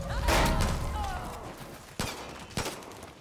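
Sniper gunfire in Far Cry New Dawn: a rattling burst of shots at first, then two sharp separate cracks spaced apart, with game ambience underneath.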